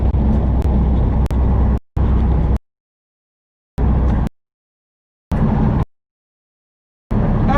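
Steady low road rumble and engine drone from inside a moving car, loud and close, broken up by several abrupt dropouts into total silence.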